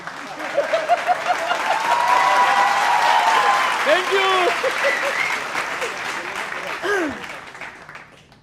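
A crowd at a poetry event breaks into loud, sustained applause that slowly tapers off, with a voice briefly speaking over the clapping.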